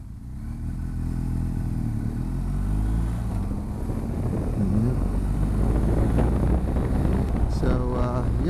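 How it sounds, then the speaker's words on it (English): A bagger touring motorcycle rides past on a club breakfast ride near Aubrey, Texas; a steady engine drone shifts in pitch as it goes by, under heavy wind noise, with people talking. "that looks like a bagger"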